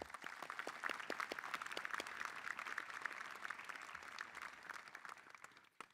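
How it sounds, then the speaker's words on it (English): Applause from a graduating audience at a spring commencement ceremony, a fairly faint, steady patter of many hands clapping that thins out and fades near the end. "Let's give them another round of applause."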